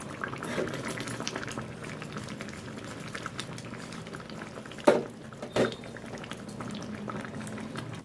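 Crab curry bubbling gently in a covered pan over a medium flame, a soft continuous simmer with two brief louder knocks or clatters near the middle.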